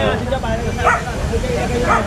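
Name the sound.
dog barking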